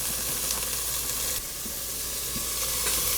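Ham sizzling in a hot pan, a dense, loud close crackle that swells as the pieces go in, with faint stirring clicks beneath.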